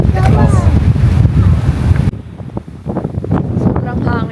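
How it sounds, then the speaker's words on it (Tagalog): Strong wind on Rottnest Island, Western Australia, buffets the microphone with loud, roaring gusts, briefly easing partway through while a person talks over it. "Sobrang hangin, no. Oh my gosh."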